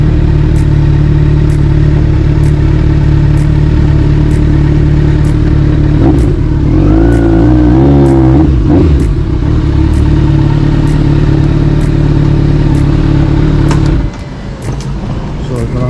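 A motorbike runs along a road in Switzerland, its steady mid-pitched engine drone continuous and close, rising briefly as the rider revs, with wind rumble throughout and no talk.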